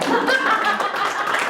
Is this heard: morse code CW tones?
no